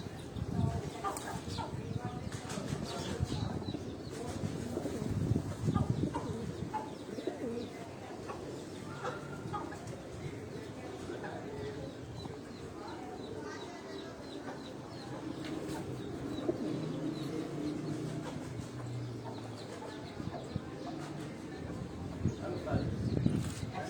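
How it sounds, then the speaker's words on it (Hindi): Chinese pigeons cooing in and around a breeder's cage, soft repeated low coos recurring throughout, with other bird chirps and a rooster-like call mixed in and someone talking over much of it. "ये चीने कबूतर अगर आप देखें"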